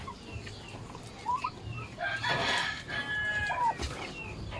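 Chickens cluck in short bursts while a rooster crows loudly midway, with more hen calls and faint farmyard background throughout.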